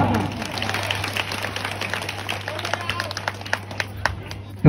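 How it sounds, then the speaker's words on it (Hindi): Loud crowd applause at a village DJ dance, steady rapid clapping from many hands with sharper individual claps standing out, under a constant low electrical hum and some background voices. "जोरदार ताली बोला"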